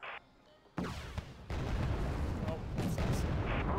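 Tank cannon fire in the war game WG:RD booms loudly after a quieter opening, followed by sustained rumbling blasts and reverberating explosions that fill the rest of the moment.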